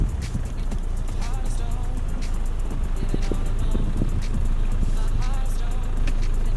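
A Land Rover Discovery Sport drives off on snow in normal four-wheel-drive mode, with a continuous rumble of engine and road noise and crunching, scattered clicks from the tyres on snow, heard close and steady throughout.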